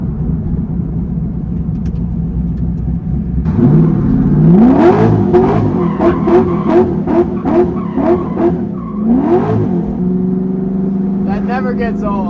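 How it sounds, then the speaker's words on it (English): An LS3 V8 engine in a swapped Nissan 350Z revs hard as tires squeal and skid in repeated surges during a donut, with a person talking over the noise. "See how easy it is to whip a donut with this thing."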